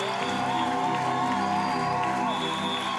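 A church congregation at a worship gathering cheers and acclaims God, a continuous dense roar of many voices and shouts sustained throughout, with musical tones underneath.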